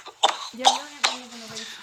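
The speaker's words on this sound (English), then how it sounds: "Told you, this cough." A few short coughs or throat-clearing bursts come quickly, mixed with a voice making brief vocal sounds, close and fairly loud.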